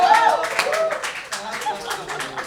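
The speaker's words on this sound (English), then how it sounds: "Stop applauding that, guys. It's not something to be happy about." A studio audience at a Bollywood quiz game show claps in a steady burst of applause, with excited voices and cheers mixed into the clapping throughout.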